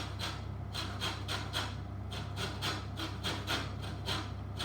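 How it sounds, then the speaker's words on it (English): Lemon zest being grated off the peel on the fine side of a grater, a steady series of rhythmic rasping strokes, close and clear against a low background hum. "So I'm just going to show you, use this side of your grater."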